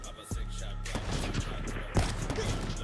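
Gunfire from a Call of Duty: Black Ops 3 match rings out in dense bursts and thumps throughout, loud and close, with players' voices talking over it.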